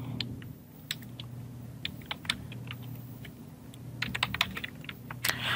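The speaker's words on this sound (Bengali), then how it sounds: "সো আমরা একটু যদি লিখি," Keys clatter on a computer keyboard in irregular quick taps and short runs, close and fairly quiet over a low steady hum.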